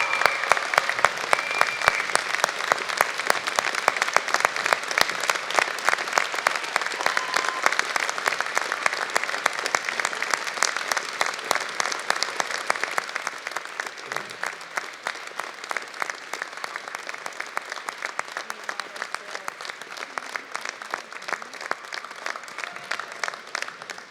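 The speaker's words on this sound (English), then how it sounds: "Let's give the people who have supported you through all of this" Convocation audience at the University of Alberta gives a long, loud round of applause, dense steady clapping for about thirteen seconds that then eases to a thinner, lighter patter through the end, with no talk.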